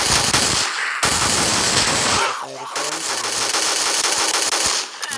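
Gunfire from the Fly Zombies video game comes as loud, rapid machine-gun bursts, broken by short pauses, with a person's voice briefly heard in between.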